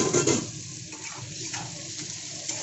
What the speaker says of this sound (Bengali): পেঁয়াজটা যতক্ষণে ভাজা হচ্ছে